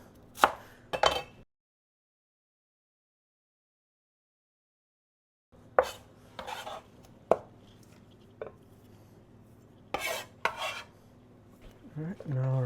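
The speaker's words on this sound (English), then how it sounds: "We're going to start with the cilantro. Just give it a rough chop." A knife roughly chopping cilantro on a cutting board for a pho garnish: bursts of quick, close thuds with a long silent pause in between, the later strokes irregular and scraping.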